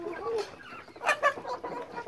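Hens cluck in short bursts close by, a few quick calls one after another.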